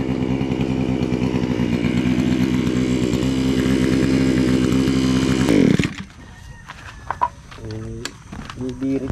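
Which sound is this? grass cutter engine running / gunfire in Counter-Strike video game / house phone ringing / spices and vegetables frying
grass cutter engine running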